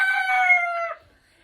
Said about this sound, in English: we have a loud chicken